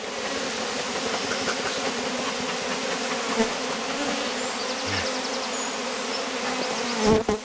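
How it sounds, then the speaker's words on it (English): Honeybees swarming around a hive, a dense, continuous droning buzz of many insects close by, steady and fairly loud throughout with a brief louder knock near the end. "So they're acting really like a swarm"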